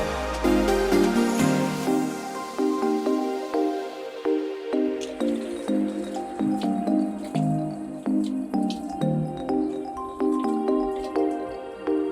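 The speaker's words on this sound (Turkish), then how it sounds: "Bir elimizi yıkayın dedim kendime geldim." Running water splashing over hands at an outdoor tap in Mostar on a hot day, a steady close trickle with irregular drips and splashes, continuous and fairly loud, no talking.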